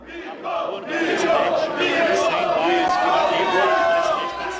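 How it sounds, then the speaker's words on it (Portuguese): Football fans in a stadium cheering Bolsonaro as he arrives at the box, a loud, continuous crowd roar of shouts and chanting that swells quickly and holds steady. "foi recepcionado com festa pelos torcedores"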